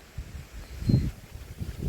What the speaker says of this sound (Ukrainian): Ось сьогодні вітер, вибачте, мотиляє нас.